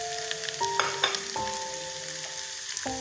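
Vegetables and onion for egg rolls frying and being stirred in a hot pan, a steady close sizzle with scraping stirs, a constant tonal hum running underneath, no talking.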